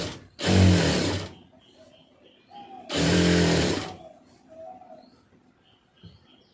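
A sewing machine stitches a seam on a cigarette pant in two loud bursts of steady whirring, each about a second long, with quieter pauses and faint sounds between them.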